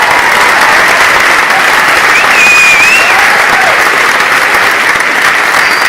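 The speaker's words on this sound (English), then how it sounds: "Can we get a round of applause for everyone?" A loud, sustained wave of audience applause fills a Star Wars convention panel room, steady and dense throughout with a faint whistle rising above it.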